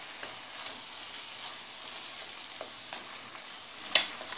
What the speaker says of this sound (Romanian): Punem toată carnea și amestecăm. Amestecăm bine așa totul, cu ceapa, cu morcovul.